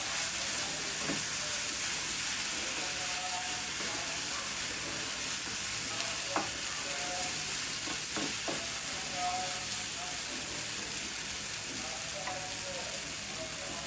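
Greens picked from a rooftop garden fry in a pan with a constant close hiss and sizzle, broken by a few light spatula clicks; no one speaks.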